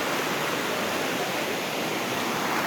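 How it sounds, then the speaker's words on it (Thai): A warm-water waterfall in Chae Son, Mueang Pan, Lampang, roaring as a dense, steady, loud rush of falling water with no break and no voices. "ตอนนี้ครับเรากำลังมาอยู่ที่น้ำตกอุ่นนะครับ"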